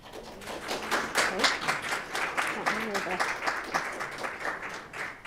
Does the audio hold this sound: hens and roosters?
no